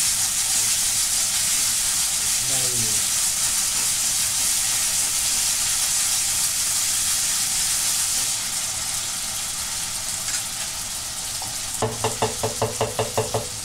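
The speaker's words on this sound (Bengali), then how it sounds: "এই পেস্টটাকে সামান্য অল্প করে ভালো করে একটু ভেজে নিতে হবে" Spice paste for a chicken jhol curry fries steadily in a pan, giving a continuous near hiss and sizzle, with a brief scrape early on and a run of quick rhythmic stirring knocks near the end.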